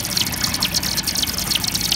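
Molten scrap lead drips steadily into pumped, circulating coolant while shot is being made at home, giving a continuous, close, bubbling trickle.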